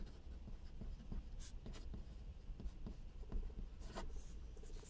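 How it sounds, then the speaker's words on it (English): A fountain pen writes on paper in a journal, making faint, close scratchy strokes in irregular bursts with a few sharper ticks, and no one speaking. "And I also do write with a special fountain pen ink"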